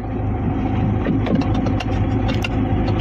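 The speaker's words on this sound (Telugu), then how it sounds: "సింగిల్ సెల్ఫ్లో అయితే కారు స్టార్ట్ అవుతుంది, ఎటువంటి స్టార్టింగ్ ట్రబుల్ అయితే లేదు." A 2014 Ford EcoSport Titanium's engine idles steadily just after starting, a close, even mid-pitched hum with light mechanical ticking and no voices.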